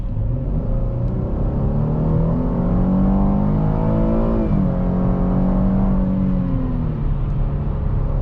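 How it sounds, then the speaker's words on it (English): A 2023 Chevy Blazer RS V6 engine revs up steadily under acceleration, a deep throaty exhaust rumble rising in pitch, loud and continuous with no talking. "that V6 actually gives out a pretty throaty exhaust noise there."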